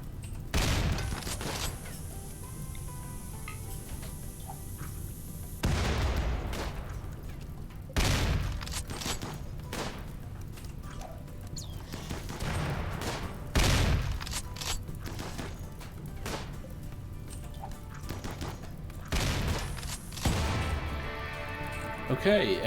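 Turrets fire in bursts of gunfire during a RimWorld colony defense, with repeated sharp booms and crashes spread across the stretch, some grouped in rapid volleys, over a steady game backdrop.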